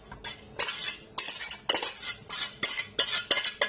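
Chopped walnuts are stirred into a vegan bolognese sauce, and a metal utensil scrapes and clinks against the pot in repeated, busy bursts.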